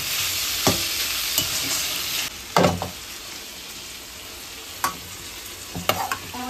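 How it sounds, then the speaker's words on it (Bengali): Onion, tomato and potato frying in a pan for chicken curry, a steady close sizzle with several sharp scraping stirs of a spatula scattered through, no talking. "মাংসের পেঁয়াজ টমেটো আলু ভাজা হয়ে গেছে।"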